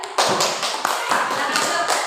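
A classroom group claps in a quick rhythmic pattern for group 3 during a school lesson, sharp broadband bursts repeating about every half second, close and steady throughout.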